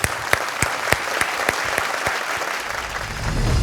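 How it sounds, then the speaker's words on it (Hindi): An audience claps loudly to welcome a founder onto a startup pitch stage, a dense, steady wash of applause with a few sharp individual claps standing out near the start. "सो जोरदार तालियों से स्वागत करते हैं द्विशा गोसालिया का"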